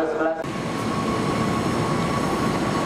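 A special train rumbles and clatters loudly and steadily close by on the lower tracks of Manggarai station after a brief tonal announcement chime at the start.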